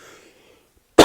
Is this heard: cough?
yes